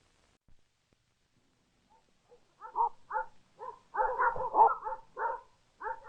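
Vintage 1950s–70s dog food commercial with collies barking, a few soft yips building into a run of repeated, fairly close barks and whimpers, with no talk over them.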